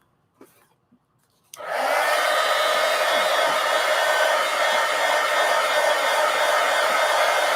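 A hair dryer switches on after a few quiet clicks and blows steadily to dry paint on an art journal page, a close, constant whooshing whine that carries on to the end.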